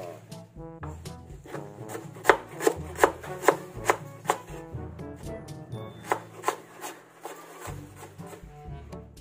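Ginger is chopped with a knife on a cutting board for paksiw na tamban, giving a steady run of crisp, close thuds that peak in a loud middle stretch, with no voices.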